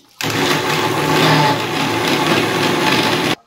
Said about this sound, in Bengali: আর এখন এখানে রসুন, কাঁচা লঙ্কা আর আদা এগুলা পেস্ট করবো গ্রাইন্ডারে